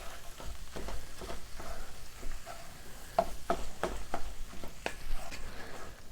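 A spoon stirs salsa into a baked nacho dip, giving soft wet scraping and squelching strokes in an irregular rhythm, close and moderately quiet, with no talking.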